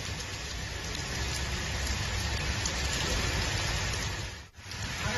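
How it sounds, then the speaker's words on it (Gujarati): Heavy downpour in Rajkot city, a dense, steady roar of rain hitting surfaces that holds constant throughout with only a brief dip near the end, no voices. "ધોધમાર વરસાદની શરૂઆત થઈ ગઈ છે, અલગ અલગ વિસ્તારોમાં વરસાદ ખાબકી રહ્યો છે"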